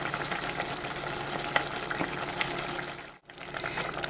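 Dark caramelized onions sizzle and fry steadily in a pan for mujaddara hamra, a close, dense crackle with occasional stirring clicks and a brief dip near the end.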